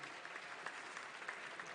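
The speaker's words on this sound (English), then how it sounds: "Everyone, please round of applause for Yuki at Bootstrap" A conference audience applauds after a startup pitch on a summit stage, a faint, even wash of many hands clapping that holds steady and sounds distant.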